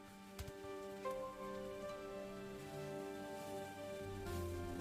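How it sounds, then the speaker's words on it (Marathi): Heavy rain as a sound effect in a children's story about a squirrel in a forest. A steady, soft rain hiss lasts the whole stretch, layered under sustained musical tones. "जोरात पाऊस सुरू झाला"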